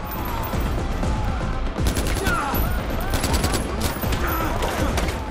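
Constant, loud gunfire fills a Far Cry 4 temple defense fight, with rapid shots packed densely under a steady din of battle.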